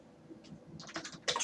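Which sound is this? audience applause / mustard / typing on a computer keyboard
typing on a computer keyboard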